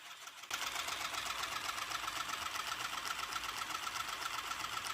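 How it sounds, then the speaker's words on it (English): A homemade model four-stroke engine turned by a small electric motor through a speed regulator starts up after a brief quiet moment, then runs with a fast, even mechanical clatter that stays steady to the end. "This is my DIY 4-stroke engine."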